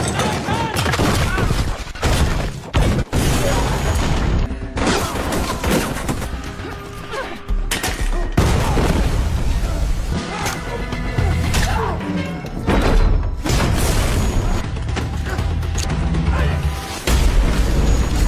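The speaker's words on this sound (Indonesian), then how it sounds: "menemukan sekotak bom punya si pemilik toko ini dan akan menggunakan itu sebagai senjata utama" Bomb explosions in a film action scene, a loud, dense barrage of booms, crashes and gunfire-like blasts bursting repeatedly throughout, with some shouting mixed in.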